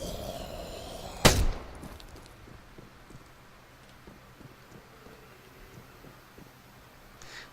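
A single loud gunshot rings out while shooting zombies in the survival game Degeneration, a sharp close crack followed by a quiet, windy stretch with faint scattered clicks and no further shots.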